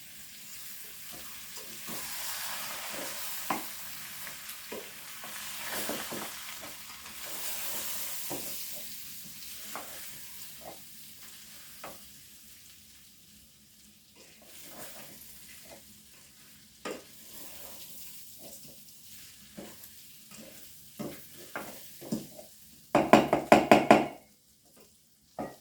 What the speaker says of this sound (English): Then I will give them a very nice mixing and leave them for around 5 minutes to cooperate.